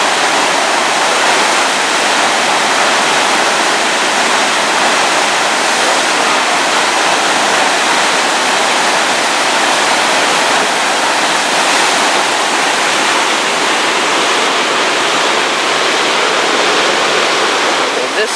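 Huka Falls in New Zealand sends a huge volume of water plunging over a rock face, producing a loud, constant roar of rushing water that fills the whole scene without letting up.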